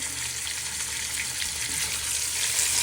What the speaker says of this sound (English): you're going to get your mince, your pork mince, and you want to start frying this